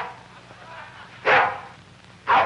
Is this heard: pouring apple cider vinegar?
no